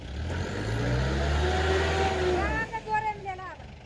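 A tractor or farm vehicle stuck in mud in a field, its engine revving hard with rising and falling pitch for a few seconds, then sputtering into uneven bursts while voices talk over it.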